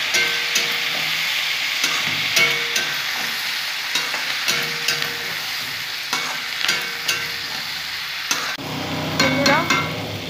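Spices for a fish curry are stirred and fried in a pan, with a loud close sizzle broken by repeated scraping strokes of a utensil against the pan.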